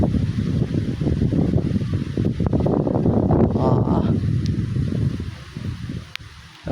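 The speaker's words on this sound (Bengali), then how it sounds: "এরে দেখো হাওয়াটা" Strong wind blows across an open field under a stormy sky, a steady, loud rumbling rush buffeting the microphone for several seconds without a break.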